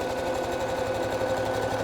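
Sewing machine stitching a camisole drawstring casing, a fast steady mechanical whirr with rapid even needle clatter, close and continuous.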